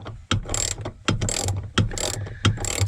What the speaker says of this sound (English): I know it's exciting for you to watch unbolting